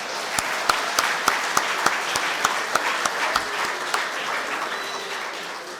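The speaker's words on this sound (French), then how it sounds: "Nous allons aussi applaudir le modérateur du jour." An audience at a pastoral session claps for the moderator of the day, starting with sharp, distinct claps that blend into a steady, moderately loud round of applause.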